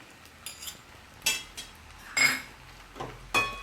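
A spoon clinks and scrapes against a pan as butter is mixed into pasta, with about half a dozen quiet, separate metallic knocks at an uneven rhythm and nothing else in between.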